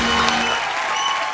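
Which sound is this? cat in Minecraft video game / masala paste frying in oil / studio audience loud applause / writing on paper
studio audience loud applause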